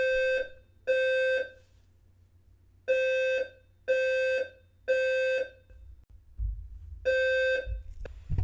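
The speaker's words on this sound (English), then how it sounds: "Our fire alarm decided to go off for a little bit." Indoor fire alarm going off in loud, evenly spaced harsh buzzing beeps, about six pulses with a short gap, followed by faint thumps and handling noise.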